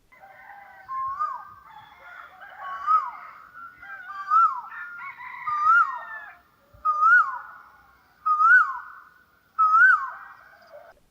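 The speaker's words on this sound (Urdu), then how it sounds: "جی یہ کوئل کی آواز ہے." Asian koel calls repeatedly, a series of clear rising-falling whistled notes spaced about every second and a half, growing louder and more distinct toward the end against a quiet background.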